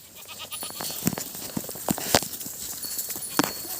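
Goats returning from grazing in a rural village, with scattered short bleats and hoof or movement noises spread across the few seconds at moderate distance, no talking.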